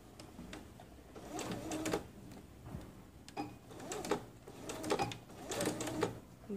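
A sewing machine stitches fabric around a telekung prayer garment, its fast mechanical chatter running in short bursts with pauses between, close and fairly quiet.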